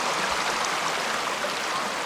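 Creek water flows in a steady, close rushing wash, an even broadband babble running unbroken with no voices.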